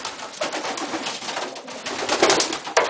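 Several racing pigeons cooing inside a pigeon loft, soft overlapping throaty coos close by, continuous and moderately loud with a brief sharp knock near the end.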